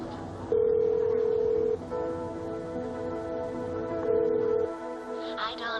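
A telephone number is dialed on a phone, producing a run of steady touch-tone beeps, two of them long and loud, over a quiet background.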